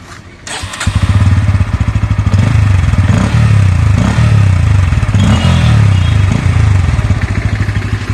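A Bajaj Pulsar N160 motorcycle engine starts with a brief clatter, then runs at a loud, steady, throbbing idle close by, alone without talk.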